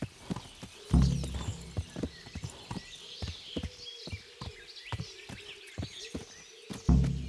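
Horse hooves clip-clop at a steady walking pace in the medieval video game Kingdom Come: Deliverance, close and fairly quiet, with a couple of heavier thuds and faint ambient bird sounds around them.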